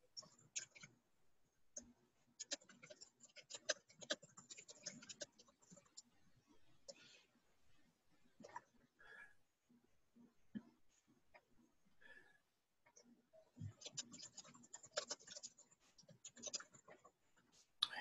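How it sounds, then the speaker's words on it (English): A computer keyboard is typed on nearby in a quiet room, giving faint, irregular bursts of rapid plastic clicking with brief pauses between runs of keystrokes. "I hear the keyboard going there."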